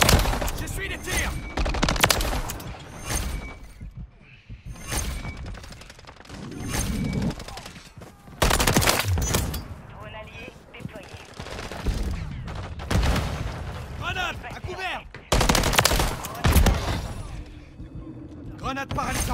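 Heavy automatic gunfire from the multiplayer shooter Modern Warfare 3, with repeated loud bursts and sharp shots, reload clanks and explosions, overlaid by in-game voice callouts throughout.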